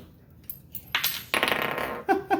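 A small kitchen knife snaps while slicing a lime, giving a few sharp metallic clinks and brief rattling bursts, close and moderately loud, with quiet gaps between them.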